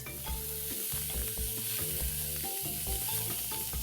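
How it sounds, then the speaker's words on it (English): Finely chopped onion and capsicum sauté in hot oil, giving an even, soft sizzle with light stirring under steady tonal background music. "Saute the onion for a minute"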